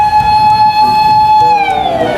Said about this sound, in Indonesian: ada pemadam kebakaran.